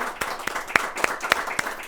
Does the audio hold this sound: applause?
yes